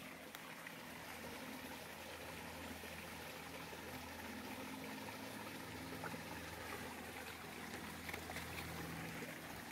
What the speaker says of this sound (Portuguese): Vou deixar vocês ouvirem um barulho da água, né?